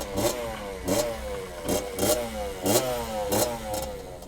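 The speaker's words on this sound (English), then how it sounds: "dirt bikes that we've recorded" Recorded dirt bikes revving in repeated bursts, each throttle blip rising and falling in pitch about every two-thirds of a second over a steady idling drone, moderately close.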